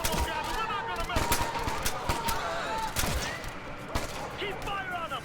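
Rapid bursts of automatic gunfire and single shots crackle throughout a firefight in Ghost Recon Future Soldier, layered with shouted voices and battle effects.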